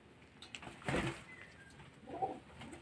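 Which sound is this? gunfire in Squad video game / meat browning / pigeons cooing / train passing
pigeons cooing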